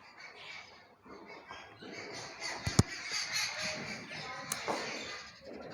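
Birds calling outdoors, crows cawing among them, a busy mix of squawks and chirps at moderate distance with a couple of sharp clicks, no speech over it.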